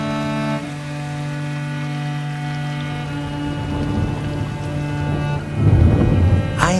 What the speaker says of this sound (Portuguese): caen abundantes e frecuentes lluvas, con grande tempestade de trovoes e relámpagos.